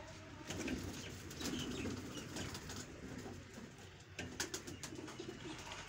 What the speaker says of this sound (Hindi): ये बलाज ने कबूतर छोड़ा, बहुत अच्छा।